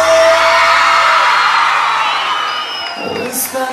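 Concert crowd at a cumbia show shouting, whooping and cheering loudly and continuously, a dense wash of voices that thins slightly near the end.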